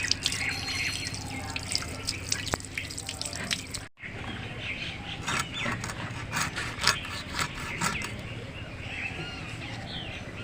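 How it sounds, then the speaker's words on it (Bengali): Hilsa fish rinsed by hand under water in a kitchen, with running water, splashing and rubbing sounds close by, one brief pause midway, then continued wet scrubbing and dripping. "আমি মাছটা এবার ধুয়ে নেব।"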